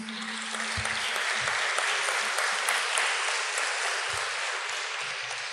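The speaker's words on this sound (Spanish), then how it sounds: "vamos a recibirla con un aplauso" A church congregation gives steady, moderately loud applause to welcome a woman forward, an even wash of clapping that continues throughout with a few low thumps beneath.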